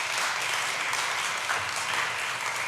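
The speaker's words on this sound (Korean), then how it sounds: "그래도 박수 한번 쳐줄까요" Applause from a church congregation during a Sunday service fills the room with dense, steady clapping that holds at an even level throughout, with no voices standing out above it.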